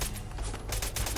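Rapid bursts of gamma gun fire from a cultist's rapid-fire variant in Fallout 4, a dense continuous volley of energy shots at close range filling the whole moment with no voices.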